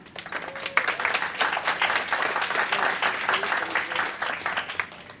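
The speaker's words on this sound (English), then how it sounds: "Give yourselves a round of applause." A large audience on a low carb cruise applauds loudly and steadily, dense clapping with scattered cheers filling the room for several seconds.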